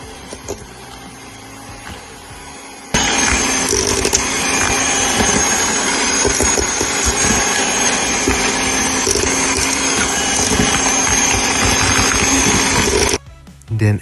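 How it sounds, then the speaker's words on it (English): An electric hand mixer on medium speed creams butter and sugar for sugar cookies, switching on with a loud steady whir that holds for about ten seconds, then cuts off abruptly. "Then turn on your electric hand mixer on medium speed until blended."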